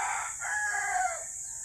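A rooster crows once, a long drawn-out call rising and falling over about a second, fairly clear at moderate distance in a rural farmyard, with no voices.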